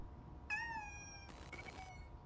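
A kitten in Amanda the Adventurer gives a single clear, plaintive meow close by, followed by a brief burst of game noise, with no talking.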